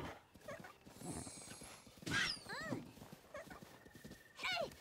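A horse gallops in the video game Relics of The Past. Rapid, rhythmic hoofbeats run steadily throughout, with a few brief tonal cries rising over them.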